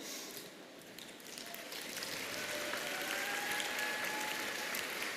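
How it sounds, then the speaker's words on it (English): Audience clapping at a business school graduation ceremony swells from moderate to full, sustained applause, dense and steady, with a faint whistle-like tone drifting through it. "Please give a round of applause to Professor Christophe Krug"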